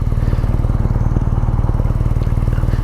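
A 2019 BMW R nineT motorcycle slowing under brakes and engine braking, its engine giving a loud, steady, close low pulsing rumble with no pauses.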